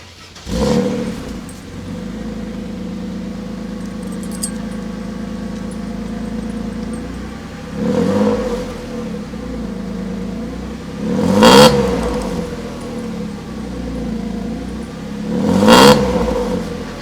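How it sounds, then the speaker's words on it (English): An idling car engine with a new muffler and an exhaust leak, revved four times in short bursts between stretches of steady rumbling idle, heard close up. "So that's the new sound of the muffler, and yes, there is a leak"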